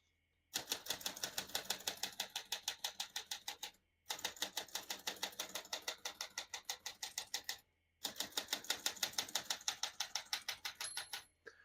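A 1949 Smith-Corona portable typewriter is typed on, rapid crisp key strikes clattering in three long runs separated by brief pauses, close and clear with no talk.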